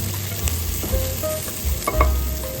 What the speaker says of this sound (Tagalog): Sunod natin dito yung ating sibuyas. Isahin lang din natin.